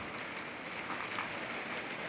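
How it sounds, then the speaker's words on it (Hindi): Heavy rain pours in a steady, even hiss, soft and continuous throughout, with no other sound standing out. "देखो कितनी तेज बारिश"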